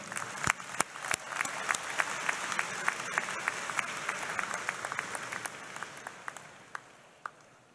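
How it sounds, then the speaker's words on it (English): An audience at a university engineering graduate commencement claps in sustained applause, a dense patter of many hands with a few sharper claps standing out. "Please also give a round of applause for our valiant readers, Professors Renate and Mazumder."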